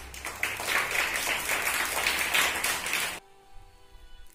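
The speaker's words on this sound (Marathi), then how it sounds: "टाळ्या" Applause in a fourth-grade maths class rewarding a correct answer, a steady wash of clapping for about three seconds that stops abruptly, leaving near silence.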